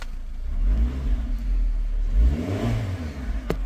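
Suzuki SX4 engine revved while parked, heard from inside the car: a couple of rising and falling revs close by, with a brief click near the end.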